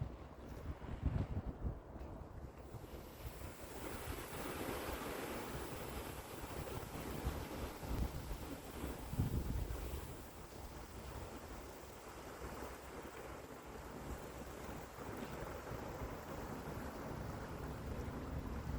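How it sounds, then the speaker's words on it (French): Powerful water rushes and roars under a train bridge, a steady, dense wash of turbulent flow with wind buffeting the microphone throughout and no voices. "C'est puissant de l'eau."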